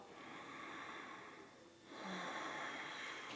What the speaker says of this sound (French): Activez Ujjayi, la respiration sonore.